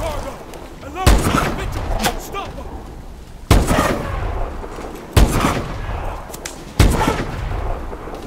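Heavy gunfire in a Call of Duty Advanced Warfare firefight: four loud, sharp bursts with booming impacts spaced a couple of seconds apart, each trailing into rumbling echo, with battle noise and voices between.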